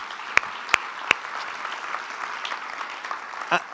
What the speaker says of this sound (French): Est-ce qu'on peut les applaudir bien fort, ceux qui ont fait le ménage?